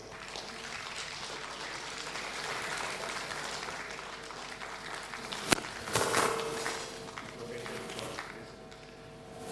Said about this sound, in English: So please, a very large round of applause for Captain Vinay Bambole.